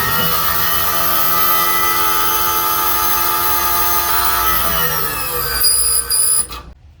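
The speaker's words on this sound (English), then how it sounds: "You should have heard the pump change its tone too, from almost having no resistance on it to what sounds like a high-pitched squeal." The hydraulic pump of a Winnebago RV slide-out retracts the cylinder all the way back with a loud, steady, high-pitched whine. Its tone shifts near the end, then rises into a squeal before cutting off abruptly.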